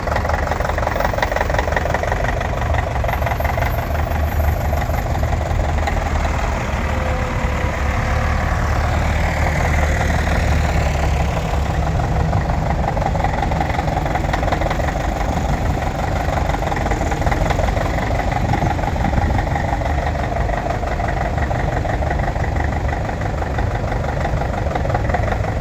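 Big vintage American tractors idle together at a tractor festival at Newby Hall, their heavy engines chugging in a loud, steady, knocking rumble that runs unbroken for the whole stretch.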